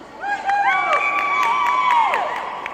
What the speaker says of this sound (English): A round of applause for penalty box manager Sarah Vobel